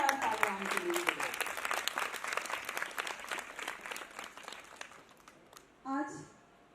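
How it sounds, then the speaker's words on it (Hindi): An audience at a Kathak dance cultural programme in Bhiwani gives sustained, dense applause that gradually thins and fades, and a voice speaks briefly at the end. "चाहूंगी जोरदार तालियां उनके लिए।"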